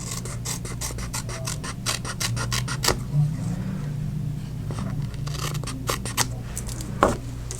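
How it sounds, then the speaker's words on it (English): Scissors trim excess paper off a handmade card up close: a quick run of crisp snips, a quieter pause, then a few more cuts and a sharper click near the end. "So I'm just going to take my scissors and just trim that off."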